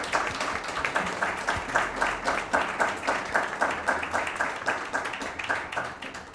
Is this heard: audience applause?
yes